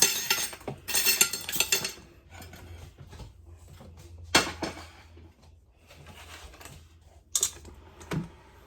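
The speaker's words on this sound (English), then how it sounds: "So now I'm going to take my mixture out and pop it into a mixing bowl." Thick vegan cherry-berry banana muffin batter is scooped into a mixing bowl, with clinks and scrapes of utensil against bowl in short bursts separated by quiet gaps.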